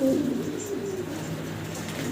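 Fancy pigeons coo nearby in low, burbling phrases that repeat across the short stretch, with no talk over them.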